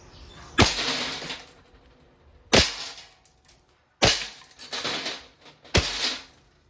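Four sharp gas blowback shots from a WE Airsoft Glock 17 Gen 5 loaded with 4.5mm steel BBs, spaced a second or two apart, each a loud crack with a brief ringing tail as a glass bottle target breaks.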